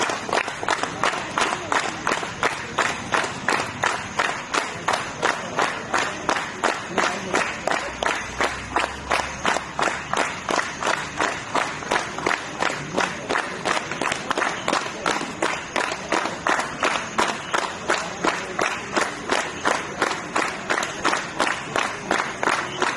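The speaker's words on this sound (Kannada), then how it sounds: "ಪರಿಹಾರ ಕಾರ್ಯಾಚರಣೆ ಮುಗಿಸಿದ ಯೋಧರಿಗೆ ಸ್ಥಳೀಯರು ಚಪ್ಪಾಳೆ ತಟ್ಟಿ ಅಭಿನಂದನೆ ಸಲ್ಲಿಸಿದ್ದಾರೆ" Local villagers clap steadily for soldiers finishing a disaster relief operation, a dense, rhythmic applause of many hands running continuously and loud throughout, with crowd noise beneath.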